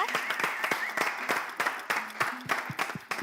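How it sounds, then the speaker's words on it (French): An audience applauds children at a televised dance competition: scattered, uneven handclaps with distinct individual strikes, moderately quiet, with faint tonal background sounds between the claps. "On va applaudir les enfants."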